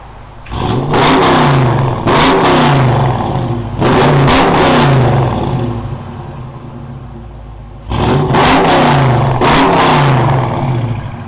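A 2021 Dodge Challenger Shaker with a 5.7L HEMI V8, headers and Flowmaster Super 10 exhaust revs in three loud, close bursts, each rising to a deep, raspy roar before dropping back to a throaty idle.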